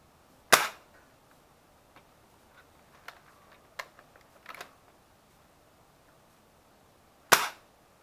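A manual bolt-action gel ball blaster sniper rifle fitted with an upgraded 1.5 spring fires two sharp, loud shots about seven seconds apart. Faint mechanical clicks of the bolt fill the quiet gap between them.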